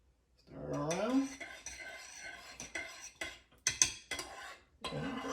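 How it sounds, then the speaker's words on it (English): A spoon stirs cream soup sauce for Swedish meatballs in a metal pan, close by. It makes a series of scraping clinks and knocks against the pan, with a brief voice at the start. "Stir it around."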